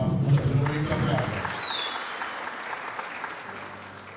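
Audience applause at an Ethiopian film premiere, a dense burst of clapping with crowd noise and some voices, loud at first then gradually thinning and fading into a softer lingering patter.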